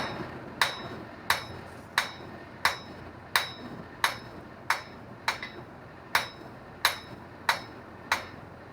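Blacksmith's hammer striking hot metal while forging a round taper on a spoon, about a dozen sharp ringing blows at an even, unhurried pace, close and loud with nothing between them.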